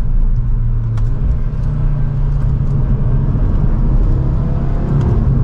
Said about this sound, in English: that 5-cylinder definitely has a unique sound to it. The exhaust sounds like an exotic.